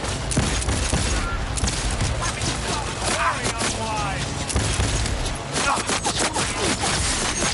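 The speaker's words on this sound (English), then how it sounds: "Opening fire!" Heavy gunfire from the Cyberpunk video game rattles on without a break in loud overlapping volleys, mixed with booms and shattering impacts.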